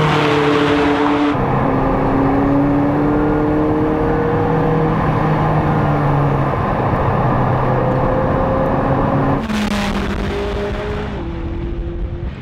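A McLaren 675LT accelerates around the Goodwood circuit on a track day, its engine note climbing steadily through several rising gear pulls, loud and close throughout, with a brief lull before another surge.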